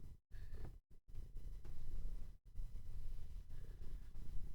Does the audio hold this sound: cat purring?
yes